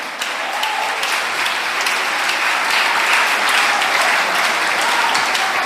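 A church congregation applauds during a Portuguese-language sermon, producing a steady, full roar of many hands clapping that swells slightly toward the middle and continues to the end.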